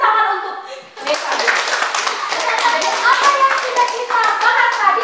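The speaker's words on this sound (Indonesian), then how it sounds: "tepuk tangan untuk Revan" Classroom of children clapping for a classmate, a brisk burst of hand claps that starts after a short spoken moment and continues steadily, with a voice mixed in.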